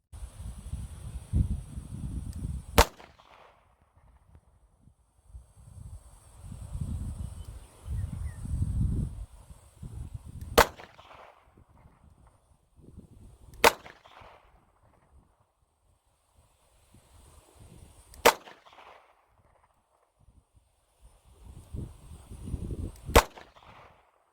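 An Iver Johnson Cadet 55S-A .22 Magnum revolver fires outdoors, five sharp single shots spaced several seconds apart, with wind rumbling against the microphone between them.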